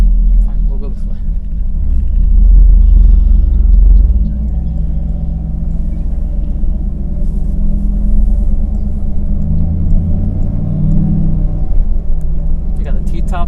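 A 1998 Chevrolet Camaro Z/28 with its T-tops off cruising slowly around a parking lot, giving a steady deep engine rumble with a brief louder rev early on, while someone talks over it.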